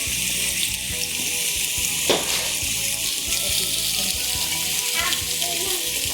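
Food frying in a pan with a little oil, a loud continuous sizzle heard close up, with a brief stir or shift partway through.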